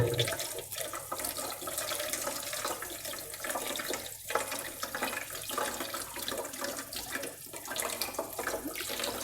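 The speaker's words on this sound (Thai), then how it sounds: "เปิดน้ำล้างเลยนะครับ โอ้ก๊อกรั่วล้างน้ำ" Tap water runs steadily into a sink while Bon Si (caladium) seeds are rinsed out of their pods, a close, continuous splashing and gurgling with no talk.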